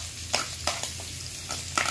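Carrots and chayote are sautéed in a pan for pancit guisado: a steady sizzle with quick, rhythmic scraping strokes of stirring.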